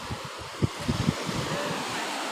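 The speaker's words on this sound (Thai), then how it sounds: "บรรยากาศอยู่ที่ทะเล" Sea waves at Cha-am beach, a soft steady surf wash with wind buffeting the microphone and a few brief low thumps early on, fairly faint and without talk.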